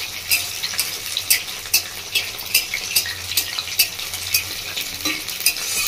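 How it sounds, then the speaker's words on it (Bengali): Cauliflower pieces frying in mustard oil, giving a steady bright sizzle with regular stirring scrapes and clinks of a utensil against the pan, close and alone. "বন্ধুরা আমি সরষের তেলে ভেজে নিচ্ছি"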